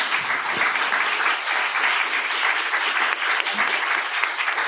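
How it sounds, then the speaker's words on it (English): Sustained, dense clapping from an appreciative conference audience rolls on evenly and loudly, with no talk over it. "Hopefully you can hear some of the clapping over the microphone."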